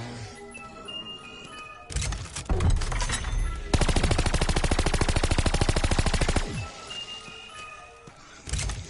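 Video game machine pistol fire, wielded by a gunslinging fantasy character, bursts out as a loud, rapid, evenly spaced full-auto stream lasting a few seconds, set between shorter clattering shots and game ambience.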